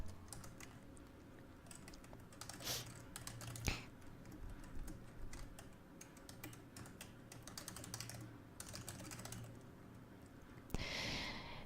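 Computer keyboard typing while a comment is entered in Autodesk Navisworks software, with quiet, close, irregular bursts of key clicks, a sharper clack near the end, and no talking.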